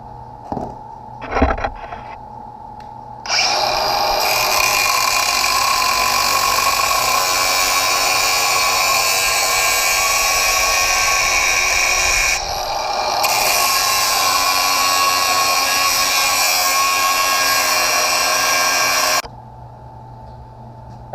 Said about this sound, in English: I was going with the angle grinder